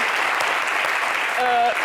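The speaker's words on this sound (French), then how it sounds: "je vais demander au public d'applaudir la ville de Korogo." Audience applause at a live Ivorian variety show, a dense steady wash of clapping filling the whole stretch, with a brief sustained musical tone rising over it near the end.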